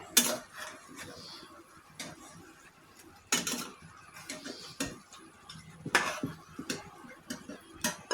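Fried catla fish pieces lifted from hot oil into another pan with a spoon, giving scattered metallic clinks and scrapes of spoon against the pan, spaced irregularly and fairly quiet, with no talk.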